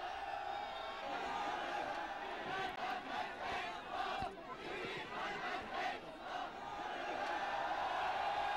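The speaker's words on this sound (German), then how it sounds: "Draußen spontaner Jubel für Willy Brandt" An outdoor crowd cheers spontaneously for Willy Brandt in Erfurt, a distant mass of shouting and whooping voices rising and falling in waves, heard faintly as if on an old recording.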